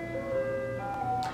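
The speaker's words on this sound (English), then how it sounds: "That ice cream truck needs to shut up." A chiming ice cream truck jingle plays a simple tonal melody from outside, moderately loud and steady, over a low background hum.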